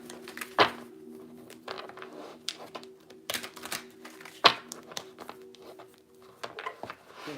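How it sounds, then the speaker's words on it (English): Tarot card decks being shuffled by hand, giving soft papery riffles and taps in irregular bursts, close and moderately quiet, with no talking. "Give a couple of these decks a quick shuffle"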